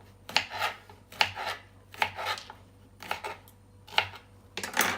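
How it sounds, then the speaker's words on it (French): Broad beans are cut by hand with a knife, producing sharp, close chopping clicks that recur in irregular clusters roughly every second, with quiet gaps between, and no talking. "Première chose, soit je coupe les fèves de cette façon."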